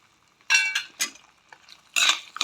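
Penny pasta stirred with a spoon in a pan with oil and coriander leaves, a few loud close scraping and sizzling bursts separated by brief pauses, no talking.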